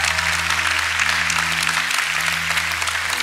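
A worship-night audience applauds to welcome guests, a steady, dense wash of clapping that holds loud and even throughout with a low steady hum underneath.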